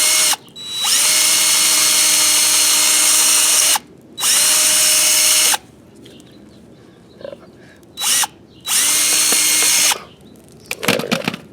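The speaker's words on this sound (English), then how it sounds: "I usually drill it so I can get it started" Power drill driving into a plastic nail during pipeline station work, in three long steady whirring bursts with short pauses and brief clicks between, loud and close with no talk.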